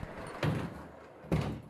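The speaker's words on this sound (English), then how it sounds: "Even the door slides closed." A sliding shower door in a bathroom makes two close rushing slides, each ending in a soft thump, separated by about a second of quiet room tone.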